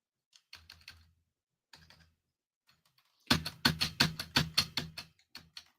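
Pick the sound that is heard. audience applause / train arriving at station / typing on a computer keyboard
typing on a computer keyboard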